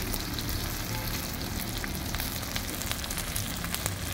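Chopped onions fry in a pan over a wood fire for a duck curry, giving a steady, close crackling sizzle with scattered pops throughout.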